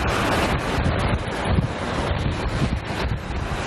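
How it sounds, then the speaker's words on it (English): Steam roars steadily out of the ground at a hot spring in Yellowstone in a loud, continuous rushing hiss, buffeted by gusts of wind against the microphone. "steam pouring out of the ground."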